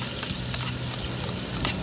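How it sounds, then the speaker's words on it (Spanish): Onion fries in oil for a refrito, a dense, even sizzle throughout with faint stirring clicks and no voices. "En este momento procedemos a hacer el refrito, que es importante para el tapado arrecho."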